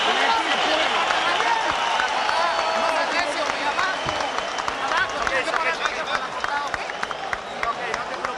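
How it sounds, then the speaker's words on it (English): A large boxing crowd rises to its feet in the sixth round of Erik Morales vs. Injin Chi, roaring and applauding loud and sustained throughout, with a voice talking over the din. "And the crowd comes to its feet for the first time tonight."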